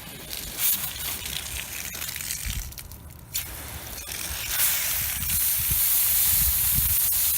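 A garden hose sprays water onto aquarium filter media, making a steady broadband hiss that swells and dips as the stream shifts and sometimes clears, with no one speaking.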